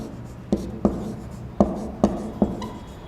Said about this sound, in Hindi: लिखता हूं